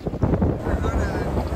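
A sailboat moves over the calm Caribbean Sea on a gentle day, with a steady low rush of wind and water throughout.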